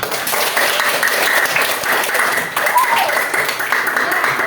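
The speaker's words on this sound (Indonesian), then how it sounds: "tepuk tangan untuk kita semua." A classroom of students in a teaching-practice session applauds, dense continuous clapping that stays loud and steady for several seconds, with voices mixed faintly into the clapping.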